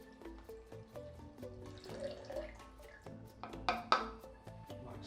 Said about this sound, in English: We then pour the whole contents of the bottle into the filter sump.